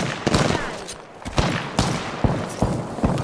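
Gunfire in Apex Legends, a rapid series of loud, sharp shots in irregular bursts, close and punchy, with roughly eight distinct reports.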